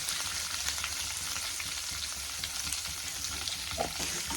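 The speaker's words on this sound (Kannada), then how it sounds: "ಚೆನ್ನಾಗಿ ಫ್ರೈ ಆಗಲಿ" Curry leaves and capsicum fry in hot oil for temple-style lemon rice, a dense continuous sizzle close and loud throughout, with faint stirring scrapes and no talking.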